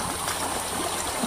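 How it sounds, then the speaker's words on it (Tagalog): A river flows steadily nearby, a continuous broadband rush and trickle of water with no pauses and no voices. "tatawid po tayo ng mga ilog"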